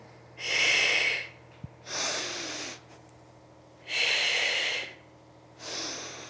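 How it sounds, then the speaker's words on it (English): Four strong breaths during a head-to-toe workout, alternating exhales and inhales in a steady rhythm, each a loud close rushing puff separated by short pauses. "Exhale and inhale."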